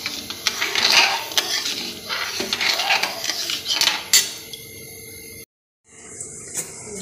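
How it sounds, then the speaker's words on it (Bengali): A metal lid comes off a cooking pot of Balu Shahi dough with a run of close clinks, clatters and scrapes, then a brief moment of silence before faint sounds resume. "ঢাকনাটা আমি খুলে নিলাম।"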